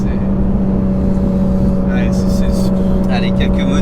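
Porsche GT3 RS fitted with a new exhaust, a steady loud engine drone running throughout, with brief higher whooshes of revving or passing near the end.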